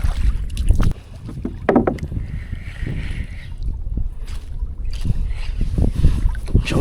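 Strong wind buffets the microphone with a steady rushing roar while fishing in mangroves, mixed with water sloshing and occasional knocks nearby.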